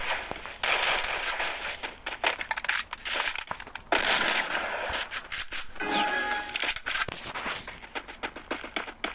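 Shotgun blasts in a 4v4 first-person shooter game, a series of loud, sharp booms with quick pumps and clicks between shots, irregularly spaced across the stretch.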